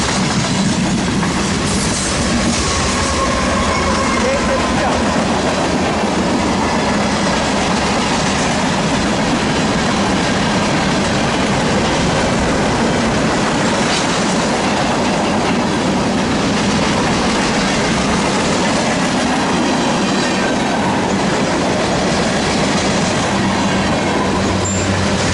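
Freight train with a mid-train DPU locomotive rolling past up close, a long steady wash of wheel rumble and rail clatter with faint squeals at Daggett, loud and continuous throughout.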